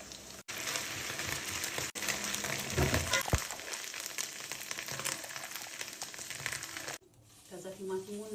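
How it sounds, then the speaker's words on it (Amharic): Garlic sizzles and crackles in hot olive oil in a pan, a steady broadband fry with occasional stirring scrapes that softens toward the end as someone speaks. "ተበስተበስ ሲልልን ነጭ ሽንኩርቱን"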